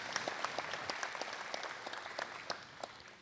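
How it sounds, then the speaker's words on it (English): A modest crowd at a community meeting claps in scattered, distinct hand claps that make a lively, uneven patter of moderate loudness, with no speech over it. "Can we give them a round of applause for just asking the questions?"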